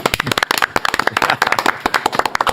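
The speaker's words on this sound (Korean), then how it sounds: "김병기 의원님 박수로 맞이합니다." A Korean talk-show studio audience claps to welcome a guest, loud, close and choppy, with individual hand claps clearly separated in quick irregular bursts and no talk over it.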